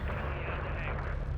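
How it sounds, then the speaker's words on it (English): A missile explosion in Call of Duty: Modern Warfare III rumbles as a dense, continuous low-heavy roar of blast and gunfire-like noise, loud and sustained throughout with no distinct separate hits. "A missile."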